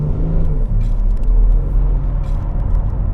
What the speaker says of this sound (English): this 3-liter diesel engine is very performant, and it has low fuel consumption, and it sounds amazing